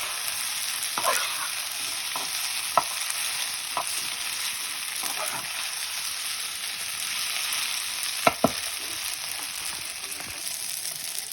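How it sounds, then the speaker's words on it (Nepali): Pasta frying in a pan for breakfast, a steady bright sizzle throughout with occasional sharp clicks and scrapes of stirring, quiet and close with no talking. "पास्ता भुटेको"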